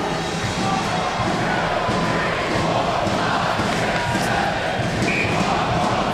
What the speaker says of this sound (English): RPI crowd absolutely delighted, chanting out just how many goals there were tonight.